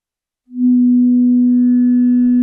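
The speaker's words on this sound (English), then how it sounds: "As you hear, this is pretty basic sine wave." A steady, pure synthesizer sine wave tone begins after a brief silence and holds at a constant pitch, clean and loud, with no audible wobble.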